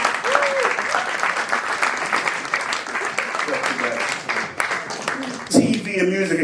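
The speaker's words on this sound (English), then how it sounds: "Matt, ladies and gentlemen, applause for that, right, ladies and gentlemen." Applause from an audience at a live music-industry event, steady dense clapping throughout with voices and chatter mixed in, a brief louder swell near the end.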